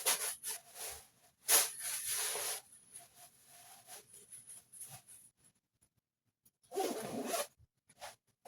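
A designer handbag's zipper is run open and closed in several quick rasping strokes, close and crisp, with a pause and then one more longer zip near the end; no talking.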